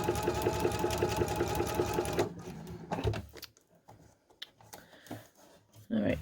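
A sewing machine with an open toe foot stitches a quilt block, running in a fast, steady mechanical rattle up close before stopping, followed by sparse handling clicks and small rustles.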